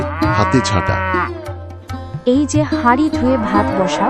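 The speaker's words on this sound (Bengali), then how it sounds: "উঠোনে হাঁস মুরগির শব্দ, গরুর ডাক" Cows moo loudly and repeatedly in a village courtyard in an animated Bengali story, the lowing overlapping with someone speaking.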